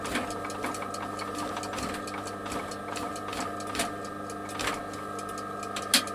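A sewing machine runs a lock stitch through a leather hatchet cover, with a steady close mechanical whir and a fast ticking rhythm that goes on throughout and a small clack near the end. No one talks over it.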